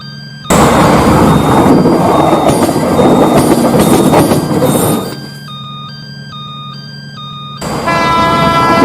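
A train roars past close by, loud rumbling and rattling wagons, with a crossing bell chiming steadily as the noise drops and then surges again.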